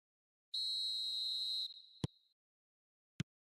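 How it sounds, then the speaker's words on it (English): A referee's whistle starts the match in the eFootball video game: one sustained shrill blast of about a second, then a fading tail and two sharp clicks, with no voices. "There's the whistle, and here we go."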